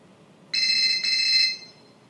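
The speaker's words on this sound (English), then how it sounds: "Hey, is that your phone?" A phone rings with a bright electronic tone in two quick bursts, loud and close, then fades out in an otherwise quiet room with no talking.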